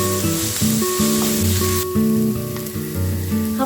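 Shallots and a chili sauté in a pan for a Kerala prawn roast, a bright steady sizzle running beneath a prominent tonal melody that steps through repeating notes.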